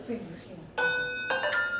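A hand bell struck twice, each strike ringing bright and sustained, with a voice speaking just before the first ring.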